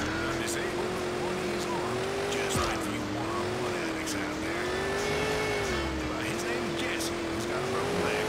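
Engine drone of a more powerful car being driven in the top-down game GTA 2, a steady hum with slowly wavering pitch that continues throughout, with game effects and faint background speech mixed in.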